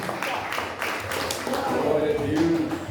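A church congregation at a thanksgiving service claps for deacon Altair, scattered hand taps building into a soft applause, with voices speaking over it.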